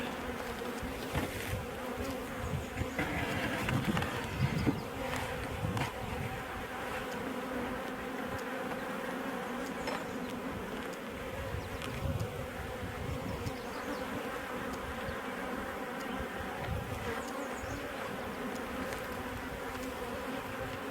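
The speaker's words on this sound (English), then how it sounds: "Got 2 frames of bees here." Honey bees buzz around hive frames during swarm handling, a dense steady drone that holds throughout at moderate loudness with no voices over it.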